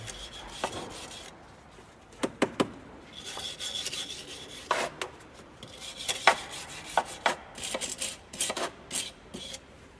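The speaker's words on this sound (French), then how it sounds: "Deuxième essai. Avec la brosse." A stiff brush scrubs a surface in irregular bursts of rasping strokes, some sharp and close, others softer, with no talking.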